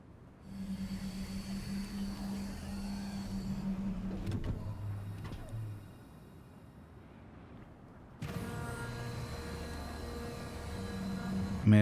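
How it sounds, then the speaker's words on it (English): Landing gear of a MISC Prospector ship retracting in Star Citizen, a steady mechanical whine and hum over engine drone, a sharp clunk midway, then the hum resumes louder. "Let's bring up the gear. Actually, let's show that animation."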